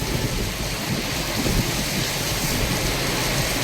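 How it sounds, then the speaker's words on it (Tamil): Heavy rain during a storm pours in a steady, dense broadband hiss, constant and close, with no distinct thunderclap standing out. "பலத்த மின்னல் இடியுடன் கனமழை பெய்தது"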